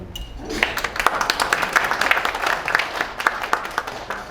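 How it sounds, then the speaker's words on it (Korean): Audience applause at a Korean peace and unification lecture event, a dense patter of many hands clapping steadily throughout, moderately loud with a low murmur beneath. "그 정도 박수 갖고는 제가 사회를 안 봅니다."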